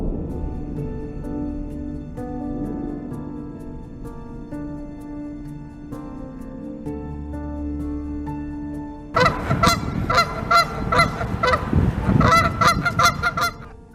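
Wild geese honk in a noisy flock, starting with scattered calls over a low rumble, then erupting into a loud, dense burst of overlapping harsh honks toward the end, close by outdoors.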